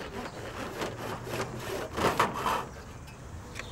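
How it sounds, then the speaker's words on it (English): Hand saw cutting through a downpipe while installing a water tank beside a metal shed, a continuous close rasping of back-and-forth strokes that grows a little louder toward the middle. "Then simply cut the downpipe on the red dotted lines."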